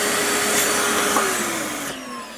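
A shop vacuum cleaner drones steadily alongside a 90-litre sandblaster, a loud even whine with a slowly shifting tone that eases off near the end, no voices.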